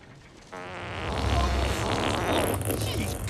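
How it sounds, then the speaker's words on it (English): A drawn-out comedic fart on the children's obstacle game show Splatalot sounds as a buzzing, rumbling blast that starts suddenly and swells, close and loud, lasting several seconds. "I think the thunder was just a fart."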